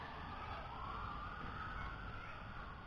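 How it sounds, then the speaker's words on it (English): Siren from a Topvision optical flow Wi-Fi FPV drone, a faint wailing tone rising and falling under a steady whine and background hiss, alone without talk. "and now we got sirens going."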